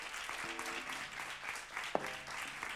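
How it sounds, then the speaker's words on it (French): Faint applause from a theatre audience at a talk with young actors, a soft steady patter of clapping with a few voices rising briefly over it. "On peut les applaudir"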